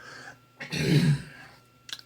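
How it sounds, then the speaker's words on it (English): A single rough throat clearing, close and moderately loud, in a quiet room at a ham radio station, followed by a faint short rustle. "Take a pause and clear my throat."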